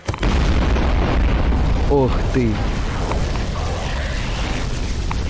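A loud, sustained boom fills an explosion in Garry's Mod during a co-op FNAF 1 session, with a broad rumbling blast that holds for several seconds while players talk over it.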